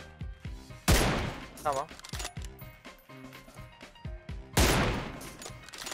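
Gunfire in the PUBG Mobile video game: two loud, sharp blasts about four seconds apart, with smaller shots and clicking weapon handling between them and a voice briefly speaking.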